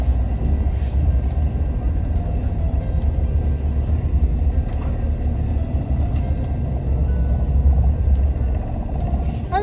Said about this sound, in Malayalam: അതെന്താ വണ്ടി ഷെയ്ക്ക് ആവണേ?